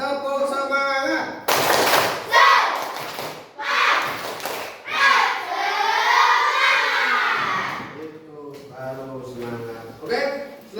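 A class of children chant and clap a rhythmic spirit clap led by a teacher, loud shouted chanting with bursts of sharp hand claps in a lively indoor classroom.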